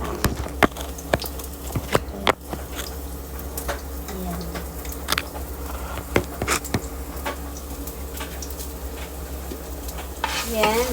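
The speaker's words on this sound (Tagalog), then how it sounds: "brown muna natin yung garlic" Garlic browning in a frying pan for a Filipino-style beef steak, a steady close sizzle with scattered sharp clicks and scrapes as it is stirred, a voice briefly heard now and then.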